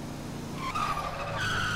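Tires skid and squeal continuously as a car drifts through a corner in a Brasília roleplay driving game, the screech rising in pitch and steady throughout with engine noise underneath.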